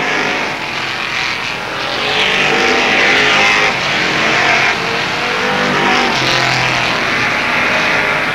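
Race cars roar around Avilla Motor Speedway in a 1995 season opener, a loud sustained engine drone swelling as the pack passes close, with no talk.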